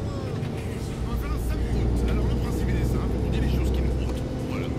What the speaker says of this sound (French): moi, j'ai bien entendu le bruit du camion